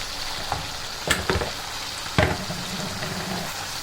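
Masala and tomatoes fry in a pan with a steady close sizzle, broken by a few louder stirring scrapes and clatters; no talking.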